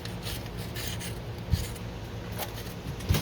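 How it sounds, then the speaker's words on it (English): Close, steady abrasive rasping as a rolled sanding pad works away the sharp edges of a cut glass bottle-neck guitar slide, with a couple of soft knocks. "just slowly sanding all them sharp edges away"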